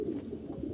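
Bezi pigeon giving a low, soft coo, a single short throaty call heard close by.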